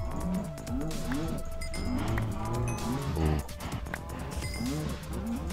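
Cows mooing repeatedly in Minecraft, several overlapping low moos with a rising-falling pitch over game noise, with a person talking now and then.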